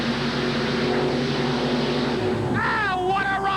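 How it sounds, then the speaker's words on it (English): A supercharged Chevrolet mud bog truck roars through its run at a 1989 off-road jamboree in Rockford, Illinois, a loud continuous engine drone with rising whining tones near the end. "This is a supercharged engine, the first one of the class here this afternoon"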